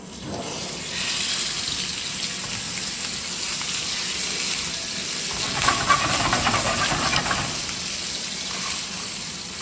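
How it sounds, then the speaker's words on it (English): Chicken, skin side down, sears in a little hot oil in a skillet on the stove, giving a steady broadband hiss and sizzle that swells slightly partway through, with no talk. "we're just going to pan sear it"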